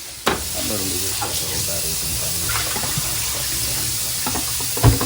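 Tap water runs steadily to rinse black and white film in a home developing tank, a continuous close splashing hiss that persists for the whole stretch.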